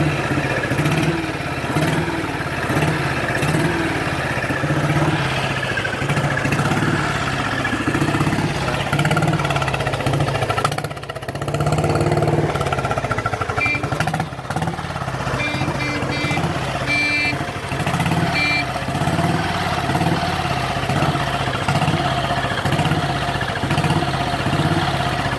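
A 1949 Matchless G3L 350cc single-cylinder motorcycle idles steadily with a loud, pulsing low thump, a slight stumble midway, then settles back into the same even beat up close, no talk.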